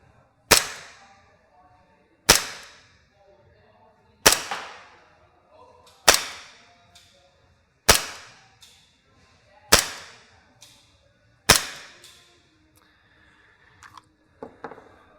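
Echo1 Wolfsbane 1911 gas blowback pistol firing 0.20 g tracer BBs through a chronograph: seven sharp, loud, evenly spaced shots about two seconds apart, each with a brief metallic slide clack and short ringing tail, then faint handling clicks.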